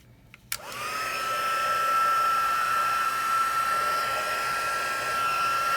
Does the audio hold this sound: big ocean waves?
no